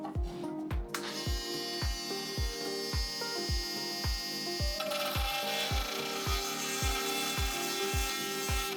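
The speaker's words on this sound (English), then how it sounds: "Let's cut these excess bolt length off real quick." A power tool cuts through the excess length of a bolt on a yacht electronics build, grinding steadily with repeated rhythmic strokes and a harsher, brighter rasp in the latter half, loud and close with no talk.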